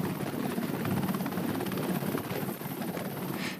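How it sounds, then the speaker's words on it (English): A Seahawk helicopter on a Navy destroyer gives a steady, loud rotor roar with fast rhythmic chopping, heard close and continuous for several seconds with wind buffeting and no voices. "One of the key features of DDGs is their Seahawk helicopters."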